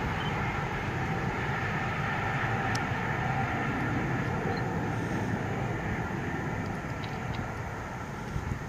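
HST with MTU engines passing at Langley on the Great Western Main Line, a steady rumbling diesel roar and wheel noise holding level throughout, moderately loud and close.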